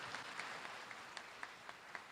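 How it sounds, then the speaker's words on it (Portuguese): Faint, distant congregational clapping at a church service, a continuous wash of applause with a few sharper individual claps standing out at a regular rhythm. "Dá uma salva de palmas para a palavra de Deus."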